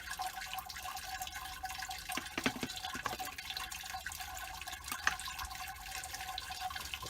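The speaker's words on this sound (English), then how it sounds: "I was using the strainer just because I don't want to pour straight down" Water trickles and drips steadily through spent grains in a strainer while rinsing a homebrew beer mash, a soft continuous wash with a few brief splashes, no voices.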